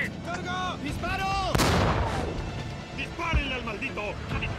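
A loud tank cannon blast in a Tiger versus Sherman battle from the film Fury booms out amid shouted voices, with a sharp broadband crack followed by a rumbling decay and another heavy thump shortly after.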